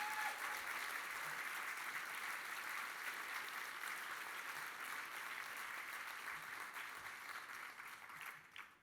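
Sustained applause from a gala audience at an anniversary celebration, a dense steady clapping that fills the whole stretch and tapers slightly at the end, with no talk over it.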